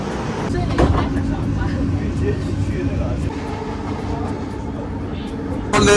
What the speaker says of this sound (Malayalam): നമുക്ക് പോകാനുള്ള മെട്രോ ട്രെയിൻ വന്നു